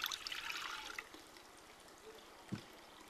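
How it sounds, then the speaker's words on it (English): Two cups of water pour into a Dutch oven, a steady splashing and trickling wash that is loudest at the start and then settles into a softer continuous stream, with a brief clunk near the end and no talk over it. "And take our 2 cups of water, pour that in there."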